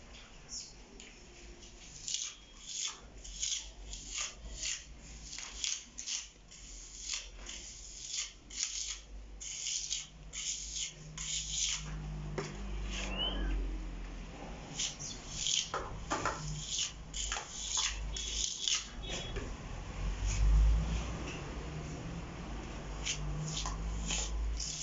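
Textured waterproof paint in a blue-purple shade is spread and evened out with a wedge tool, a long stretch of soft rubbing and scraping strokes with irregular rasping bursts, moderately close and fairly quiet.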